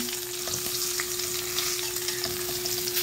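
Milkfish frying in hot cooking oil hisses in a steady, close sizzle with small crackles, alone and without talk, over a faint constant hum.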